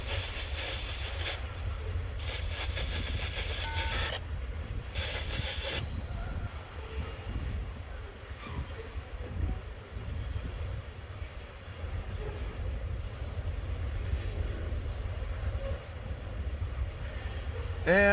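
An eastbound CSX freight train rolls past at close range, a steady heavy rumble with wheel clatter and brief squeals running the whole time, no talking over it.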